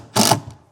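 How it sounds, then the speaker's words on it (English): Power driver briefly driving a screw into a temporary wooden stair board, one short loud whirring burst about a fifth of a second long, close by. "Yep. I'll screw it down."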